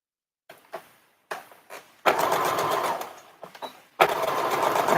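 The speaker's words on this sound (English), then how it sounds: "let's go ahead and sew this" A sewing machine stitches a doll dress seam in short start-stop bursts, first a few brief whirs, then two longer, loud, close runs of rapid needle chatter separated by a pause.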